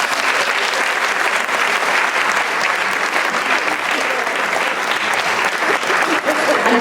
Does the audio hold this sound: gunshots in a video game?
no